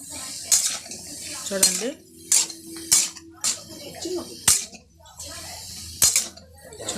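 A metal spoon stirs sambar vegetable curry in a home kitchen, scraping and knocking against the pot in irregular clinks and clatters, with someone speaking briefly between strokes.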